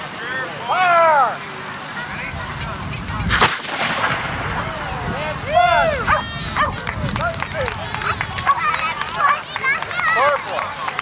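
Cannon firing at a 1995 bicentennial event in Montgomery, Ohio, a single loud, close boom that rolls out, set among shouting voices, barking dogs and crowd noise before and after.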